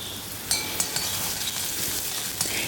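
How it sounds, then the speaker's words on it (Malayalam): Ginger, garlic and green chili frying in a pan, a steady sizzle with a few light clinks of a stirring utensil against the pan. "ഇഞ്ചി ഇട്ടു, വെളുത്തുള്ളി ഇട്ടു, പച്ചമുളക് ഇട്ടു. ഇന്ന് ഇളക്കാം."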